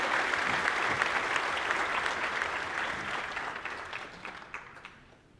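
A big audience at a high school honors convocation claps steadily for the sophomore class honorees, the dense applause gradually thinning and fading toward the end.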